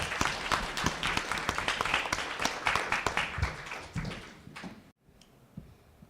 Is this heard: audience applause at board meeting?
yes